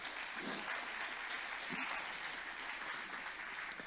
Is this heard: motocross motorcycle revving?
no